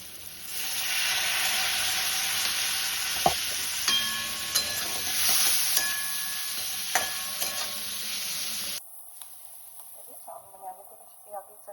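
Chowmein ingredients fry with salt in a pan, a steady sizzling hiss with scattered clicks of stirring that stops abruptly near the end, leaving faint knocks and quiet background sounds.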